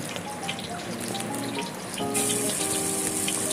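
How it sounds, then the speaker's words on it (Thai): Pork lard with pork cracklings frying in a pan, a close, steady crackling sizzle that grows louder and brighter partway through. "ใส่น้ำมันหมูนะครับ ผมพร้อมกากหมูลงไปก่อน"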